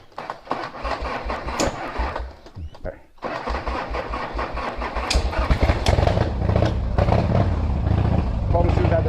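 A motorcycle engine cranks and fires, stutters briefly, then catches and settles into a steady, rumbling idle close by.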